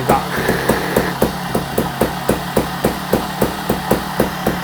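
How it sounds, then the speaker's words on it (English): A TRS 300 RR trials motorcycle engine idles with a rapid, even ticking rhythm and a thin high-pitched whine like a dry bearing running over the top, steady and close, with no talking. "that high pitch, like a dry bearing kind of noise"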